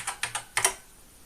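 Several quick, close keystrokes on a BBC Micro computer keyboard, clacking in an uneven burst before falling quiet.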